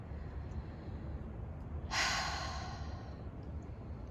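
A single deep breath, a soft breathy rush of air drawn in and released, brief and close, standing out against a quiet hiss.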